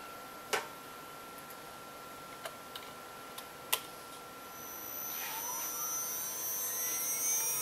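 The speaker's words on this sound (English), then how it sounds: "good old Mach will issue an M3 command to drive the spindle clockwise" A 2.2 kW Chinese CNC spindle driven by a Hitachi X200 VFD spools up, a faint high whine rising steadily in the second half after a few sharp ticks and clicks from the reset.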